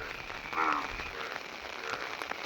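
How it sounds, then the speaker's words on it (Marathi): Faint croaks of frogs in a pond rise over a soft, constant patter like light rain, quiet and somewhat distant. "तो आवाज आहे माहीतच असेल तुम्हाला बेडकांचा"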